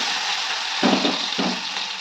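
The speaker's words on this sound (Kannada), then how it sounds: "ಎಣ್ಣೆ ಕಾದಿದೆ ಸಾಸಿವೆ ಹಾಕಿದ್ದೀನಿ ಇವಾಗ ಈರುಳ್ಳಿ ಹಾಕ್ತಾಯಿದ್ದೀನಿ" Chopped onions dropped into hot oil with mustard seeds, giving a steady close sizzle that swells into a louder crackling burst as they hit the pan, with no talk.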